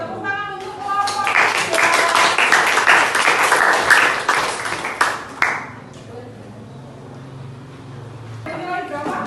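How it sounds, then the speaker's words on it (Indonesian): A classroom group receives applause after its presentation, with dense clapping from many hands rising and holding for several seconds amid voices, then tapering off into quieter murmuring near the end. "Tepuk tangan untuk kelompok"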